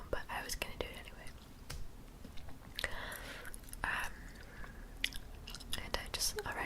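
Gum chewing close to the microphone, with soft wet smacks and clicks in an irregular rhythm, under a quiet whispering voice that talks throughout.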